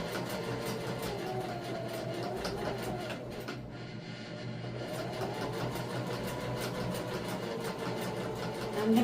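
A sewing machine hums and rattles steadily while back stitching above a pocket on a handmade bag, briefly easing off in the middle before running on close by.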